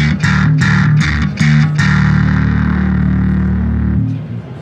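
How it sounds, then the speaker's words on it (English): Heavily distorted electric guitar through a Darkglass Alpha Omega distortion pedal with a fuzzy, saturated tone: a few quick strummed chords, then one sustained chord ringing loud before fading at the end. "The Alpha Omega distortion is more of a fuzzier distortion than some of the others."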